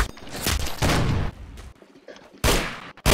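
Gunfire from Roblox Arsenal comes in several loud sharp bursts separated by short gaps, with one last quick shot at the end.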